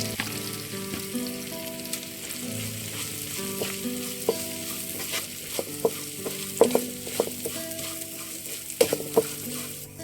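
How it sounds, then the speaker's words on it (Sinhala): Garlic and curry leaves sizzle steadily in a pan of hot oil while being stirred, with sharp clicks and scrapes of a spoon against the pan over a continuous frying hiss, and no talking. "මම කරපිංචා සුදු ලුණු ටික හන්වන් පාට වෙනකොට මෙතෙන්ට කෑලි මිරිස් ටිකයි ලුණු කුඩු ටිකයි එකතු කරගන්නවා."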